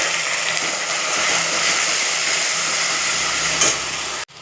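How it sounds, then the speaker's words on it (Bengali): A paste of chili, ginger and garlic fries in hot oil with reddish-browned onions for a Bengali fish dhoka dish, a loud continuous sizzle with stirring, ending in an abrupt cut and no talking. "এবারে আমি এই লঙ্কা আদা রসুন বেটেছি সেটা দিয়ে দিলাম"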